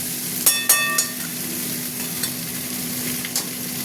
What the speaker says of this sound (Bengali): ঢ্যাঁড়সটাও দিয়ে দিলাম। এখন কিছুক্ষণ এটা ভাজা করবো।